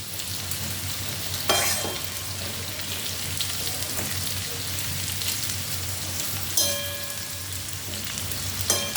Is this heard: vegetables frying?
yes